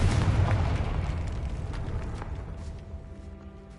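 A blasting-spell explosion in a wizard video game gives one deep, loud boom at the start, then a long rumbling decay that slowly fades under faint game ambience.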